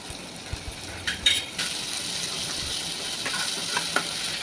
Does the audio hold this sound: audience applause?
no